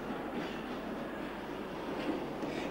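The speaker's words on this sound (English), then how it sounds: "Here, E-class number L46 shunts in the yard." Electric locomotive, London Underground E-class, shunting in a railway yard at Neasden, giving a steady continuous rumble and rolling wagon noise at a moderate level throughout, with no talk.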